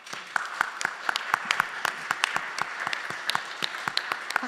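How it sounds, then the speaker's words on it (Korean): At a church youth Friday worship service, the congregation gives new members a round of applause: a dense, continuous patter of many hands clapping for several seconds. "박수."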